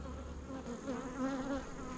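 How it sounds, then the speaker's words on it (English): Honey bees drone in a steady, close buzz over an open beehive, the hum swelling and wavering slightly as the colony moves across the comb, with no talking. "You can see these bees in here kind of shaking their butts."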